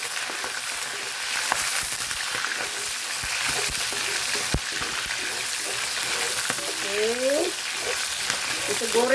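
Chicken skin frying in hot oil in a pan, a continuous crackling sizzle with scattered sharp pops throughout, close and steady, with a few faint clinks and squeaks from the pan near the end.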